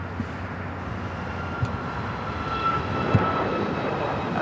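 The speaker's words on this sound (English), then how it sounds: "Cathay Pacific now heading into one of the north side gates of Tom Bradley" A Cathay Pacific airliner taxis toward a north side gate at Tom Bradley terminal, LAX, its engines a steady loud drone with a whining tone, heard alone without talk.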